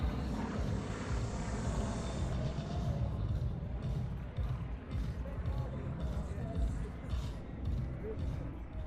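Aircraft from an aerobatic team flying a three-ship display at the Portugal Air Summit 2018 airshow drone steadily at a distance, a continuous broad engine roar with faint wind-like rushing throughout.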